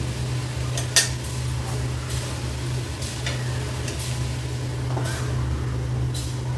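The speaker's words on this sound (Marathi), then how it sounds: "ह्याच्यावरती फक्त 2 मिनटं मी झाकण ठेवते." A lid set on a cooking pan in a home kitchen, one sharp metallic clink near the start followed by lighter clinks and kitchenware clatter over a steady hum.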